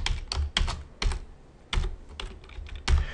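Someone types an equation on a computer keyboard, producing irregular bursts of crisp, close keystrokes with short pauses between them.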